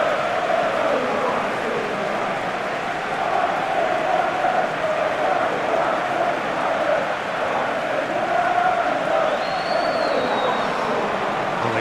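Stadium crowd at Arsenal versus Chelsea at the Emirates in the PES 2021 football video game, a steady dense roar of cheering and chanting filling the whole stretch, broad and continuous with no clear peaks.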